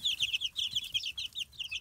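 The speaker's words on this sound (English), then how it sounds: "whichever one gets it, it'll run around and it'll squeal. It'll just chirp." Baby chicks that have just found a mealworm peep in fast, high, continuous chirps, a small flock close by with no talking.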